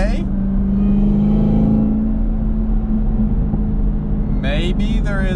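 Loud supercharger whine from a new ZL1 Camaro with a freshly installed cold air intake, a steady engine drone and rumble sustained throughout with a brief sharper burst near the end.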